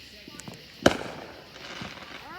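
A single sharp firework bang from a backyard display finale cracks out fairly close, with fainter pops and crackle trailing after it.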